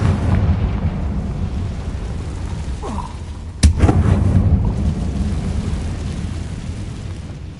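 A Confringo fire spell bursts in a Hogwarts Legacy fight with a sharp explosive crack midway, over a steady low rumbling game background, and the blast's boom trails off afterward.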